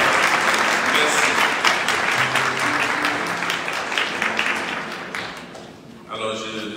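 A church congregation at a Sunday Mass in Lent breaks into sustained applause that fills the space, then thins and fades, with a voice speaking briefly at the end.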